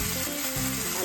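Potatoes fry in a hot pan for a homemade pizza, giving a dense, steady sizzle with faint stirring, close and loud throughout.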